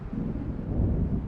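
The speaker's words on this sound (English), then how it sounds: "It seems there's a storm coming." Low, rolling thunder from an approaching storm in the video game Alan Wake, a steady deep rumble with windy texture throughout the short stretch.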